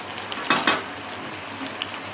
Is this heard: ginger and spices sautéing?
yes